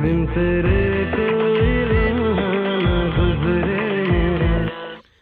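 A melodic song plays continuously with sung vocal lines over bass and rhythm, bright and upfront, ending abruptly after about five seconds.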